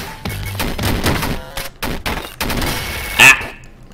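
Gunboot shots in the video game Downwell, a dense run of sharp electronic firing bursts with a bright chiming pickup sound near the end, loud and close.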